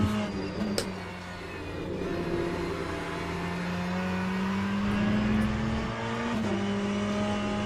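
Ferrari race car engine in the sim racing game Le Mans Ultimate, a steady loud drone with rising and falling pitch as the car works through a right-hand corner, with brief sharper bursts near the start, no talk.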